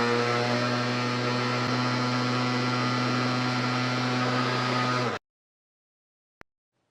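A Hyper Tough brushless angle grinder runs at a steady, loud whine with a strong low hum for about five seconds, then cuts off abruptly, followed by silence and one brief click.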